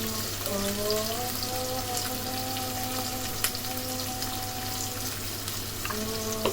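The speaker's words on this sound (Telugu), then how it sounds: "మిర్చి, ఉల్లిగడ్డ తొందరగా ఫ్రై అవుతాయి." Green chillies and onions fry in a pan with a steady close sizzle and light crackle, under a faint tonal hum that rises and falls.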